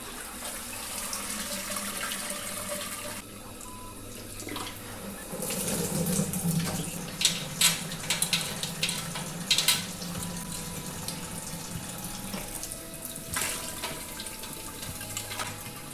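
Liquid drains from a lifted grain basket during cream ale brewing, a continuous trickling and splashing of wort into the kettle below, with knocks and clatters of handling over the running water.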